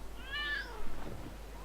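A cat in the Lego City Undercover video game gives one clear, drawn-out meow, followed by a few soft low rustling sounds.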